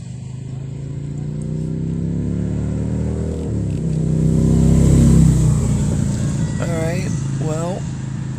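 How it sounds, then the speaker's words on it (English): A motor vehicle engine revs near a waterside spot at dusk, a steady low drone swelling louder midway and easing off, with a person talking over it. "Maybe we got some motor action on display for you."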